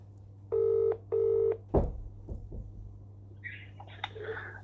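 Outgoing telephone call: two steady electronic ring tones near the start, then a thump and handling noise, followed by a brief higher electronic chirp, fairly close and quiet.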